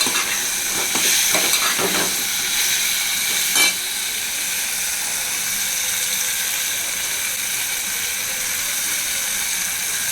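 Small onions and tomato frying in a pan for a kulambu, a steady close sizzle and hiss with a few brief clicks and scrapes of stirring near the start, then an even crackle throughout.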